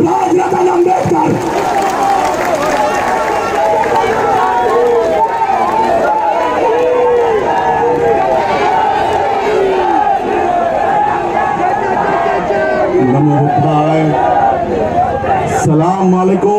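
A large crowd at a political rally in Bengal roars, cheers and chants in a loud, continuous swell of voices, with shouting and applause close and filling the whole stretch.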